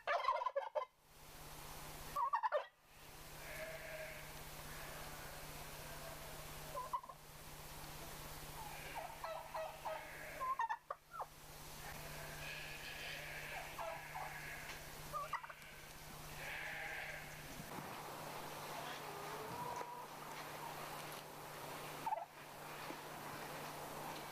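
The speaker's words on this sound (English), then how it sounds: "In the foreground here is a turkey hen, while a male turkey spreads its tail in the background." Turkeys, a hen and a male, gobble in short bursty calls at intervals, fairly close, over a quiet steady hum with no talking.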